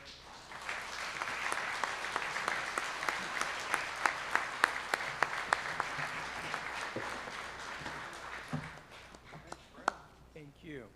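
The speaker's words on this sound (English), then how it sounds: "Another round of applause for Willacton" A steady round of applause fills the room at a Vancouver art and design awards ceremony, many hands clapping at a moderate distance, with a few sharper claps standing out near the end.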